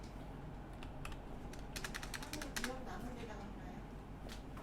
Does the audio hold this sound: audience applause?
no